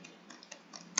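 Someone types the ipconfig command on a computer keyboard: several light, irregular key taps close by, ending in a slightly sharper keystroke, with no talking.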